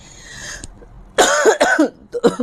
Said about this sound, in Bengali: একটু কথা বললে আমার অনেক কাশি হয়